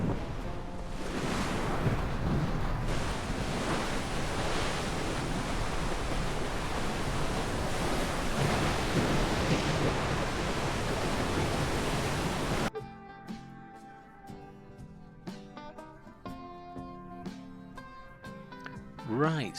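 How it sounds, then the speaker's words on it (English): Sea waves bashing against the promenade at Seaburn on Sunderland's coast: a loud, steady roar of surf with wind buffeting the microphone for about thirteen seconds, then it cuts to quieter ambience with a person talking. "what would the seaside be without the sea bashing against the side?"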